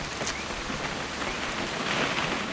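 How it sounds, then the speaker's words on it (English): Steady rain from a PS4 video game, a dense, even hiss of drops falling on a surface throughout, close and constant with no voices. "It's gonna rain the whole weekend, isn't it?"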